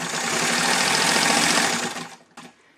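A vintage Singer sewing machine, such as a 185K, 66 or 99, fitted with a Janome walking foot, stitches in a fast, steady mechanical whir that runs for about two seconds close by, then slows and stops with a faint click.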